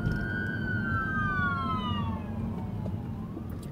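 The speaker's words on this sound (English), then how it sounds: "all right, ambulance." An ambulance siren wails past on a street, its sweeping tone sliding downward as it moves by and fades, moderately distant over low traffic rumble.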